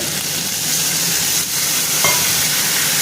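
Spiced curry with ridge gourd, potato, turmeric and red chilli powder sautéing in a pan after a splash of water, giving a loud, continuous close hiss and sizzle with no break.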